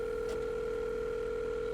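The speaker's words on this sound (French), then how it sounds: "Attendez, je l'appelle." A steady telephone dial tone during a call in a GTA video game, one constant unbroken hum that stays at even loudness and carries no speech.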